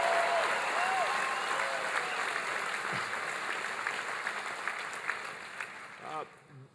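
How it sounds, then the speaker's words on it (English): Sustained audience applause fills a town hall meeting on health care in Green Bay, a dense wash of clapping from a large crowd that stays steady, then thins near the end as a few voices and cheers rise. "Give them a big round of applause."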